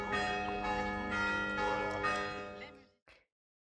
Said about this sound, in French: Et voilà d'où provenait le son des cloches de cette abbaye